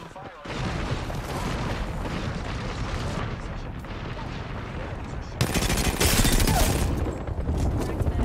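Sustained rapid automatic gunfire in the Apex Legends battle royale shooter, dense and loud throughout, with a harsher, heavier burst of shots joining in partway through.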